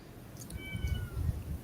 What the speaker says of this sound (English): Oh, Jason, I thought that was my cat.